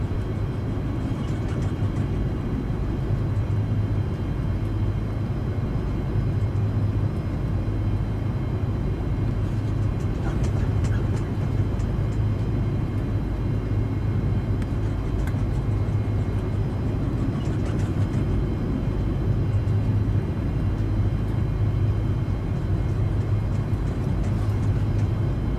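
Boeing 747-200 with Rolls-Royce RB211 engines taxiing in X-Plane 11, a steady low droning engine rumble that holds evenly throughout with no pauses.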